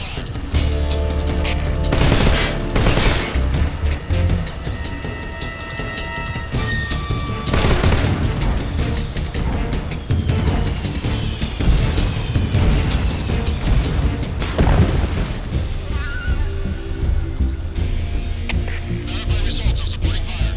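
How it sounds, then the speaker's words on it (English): Mortar support fire in Metal Gear Solid Delta: Snake Eater, a sustained volley of booming impacts and bursts over a low hum, loud and steady across the span with several sharper blasts. "Requesting mortar support fire."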